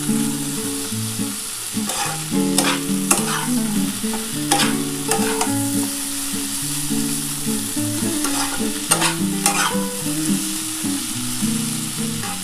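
Spiced bitter gourd curry stir-fried in a pan, a steady sizzle with repeated scraping and clattering of a spatula stirring throughout, close and continuous with no talking.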